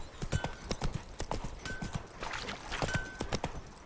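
Horse hooves gallop in The Witcher 3 video game, a fast, even clip-clop rhythm that carries on throughout at moderate loudness.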